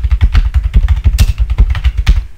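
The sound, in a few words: typing a command on a computer keyboard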